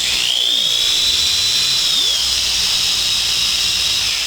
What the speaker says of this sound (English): It takes me about 2 minutes to sharpen the chain all the way around